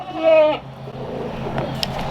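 A short, nasal bleat from a farm goat sounds close and clear, then fades into quiet barnyard background.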